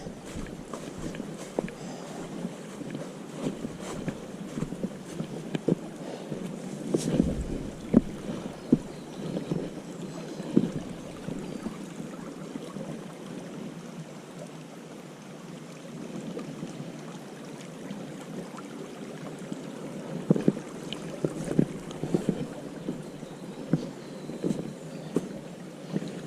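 A hiker wades across a creek on Meigs Creek Trail, with continuous splashing and rushing water up close, plus buffeting wind noise, steady throughout with occasional louder splashes.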